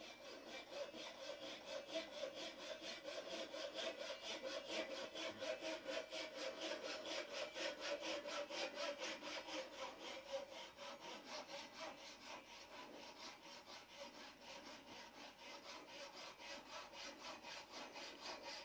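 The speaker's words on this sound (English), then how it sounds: "I can now saw this off. I'll lock the indexer on the lathe. I'm using a Japanese full cut saw." Japanese full cut saw cutting through a wooden pen blank held on a lathe, a steady close rasping of even back-and-forth strokes continuing without a break.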